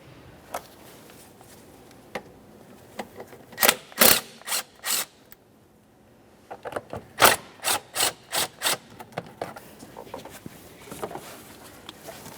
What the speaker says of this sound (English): To remove this, we're going to loosen each of these two 10mm headed clamps.